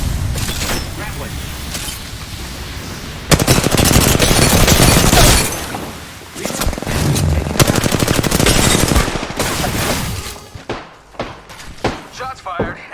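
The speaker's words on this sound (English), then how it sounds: "Shots fired and they're hitting me." Repeated automatic weapon fire in the Apex Legends video game, loud sustained bursts broken by short gaps, mixed with mechanical clanks and in-game voice lines.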